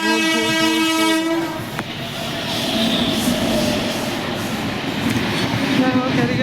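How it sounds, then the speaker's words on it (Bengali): A train rumbles past at Howrah Station with a steady roar, a horn blaring loudly at the start, and voices faintly audible in the background. "ট্রেন যাবে দেখিয়ে"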